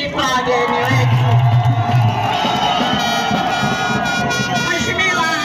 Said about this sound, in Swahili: Makofi mengi kwa wageni wetu